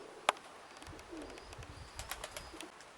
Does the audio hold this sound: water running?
no